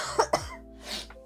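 Two sharp coughs close by, followed by a short throat-clearing rasp.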